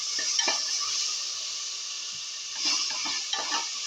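Coconut mixture and potatoes sautéing in a pan, a steady bright hiss of frying with a few soft stirring bumps and scrapes scattered through, close and continuous.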